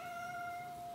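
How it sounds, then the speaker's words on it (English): A single upset cat gives one sustained, plaintive meow that holds steady for about a second, close and clear in a quiet room with no talking. "That's an upset cat."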